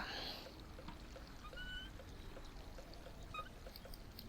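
Water drains and gurgles steadily in the Machinarium puzzle game, a continuous pouring, trickling wash with faint metallic pings scattered through it, no talk.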